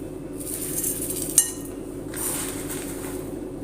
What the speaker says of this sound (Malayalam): ഇനി ഇതിലേക്ക് ആവശ്യത്തിനുള്ള കുറച്ച് കല്ലുപ്പ് ഇട്ട് കൊടുക്കുന്നുണ്ട്